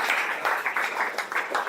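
Audience applause at a cricket celebration event, a steady, moderately distant patter of many hands clapping for a couple of seconds.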